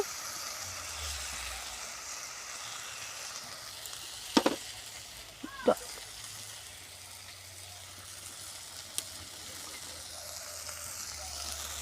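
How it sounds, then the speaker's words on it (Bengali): Ground spices with turmeric, cumin and coriander sauté in a pan with a little water for muri ghonto, giving a low, steady sizzle with a couple of brief utensil clinks midway. "সামান্য জল দিয়ে মশলাটাকে ভালোভাবে কষিয়ে নেব"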